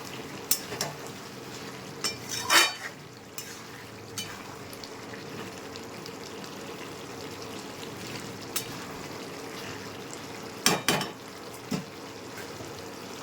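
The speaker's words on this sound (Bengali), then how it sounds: "একটু নেড়ে দেবো" Bottle gourd curry stirred in a pan, a low simmering sizzle broken by a few sharp scrapes and clacks of the spoon against the metal, nobody speaking.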